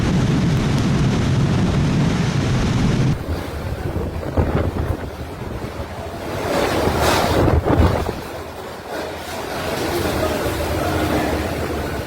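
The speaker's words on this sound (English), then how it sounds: "Massive waves slammed into a pier on Lake Michigan on the afternoon of Tuesday, October 21st" Massive storm waves slam into a pier on Lake Michigan, heard as a loud roaring wash with heavy wind buffeting the microphone and surges that swell and fall.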